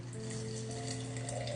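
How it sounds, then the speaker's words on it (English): Water poured onto a sourdough starter sitting on a kitchen scale, a soft, steady trickle over a low background hum, heard close and without talk. "I'm going to add 50 grams of water"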